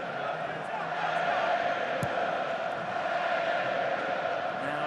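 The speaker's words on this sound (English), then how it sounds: "Now it's the English voices that can be heard in the crowd" Rugby crowd at France versus England in the Six Nations, with English fans' voices carrying through a steady, dense stadium roar, with a brief thump partway through.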